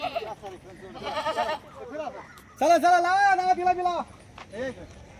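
Kathiawadi goats at a goat sale bleat several times, including one long, loud, wavering bleat in the middle, while people talk close by.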